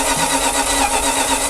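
An abandoned classic Dodge Power Wagon engine cranks and catches, a rough, loud, close running sound through a short burst with no talk.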